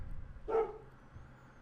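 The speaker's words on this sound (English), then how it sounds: "There's got to be a dog barking right here" A single short dog bark, fairly close and clear, standing alone against a quiet outdoor background.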